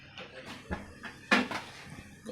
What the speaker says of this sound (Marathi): कढाई ठेवली आहे